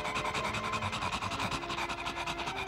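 A cartoon dog pants in quick, rhythmic, breathy huffs that run steadily and close up for a few seconds over a dense, bright background.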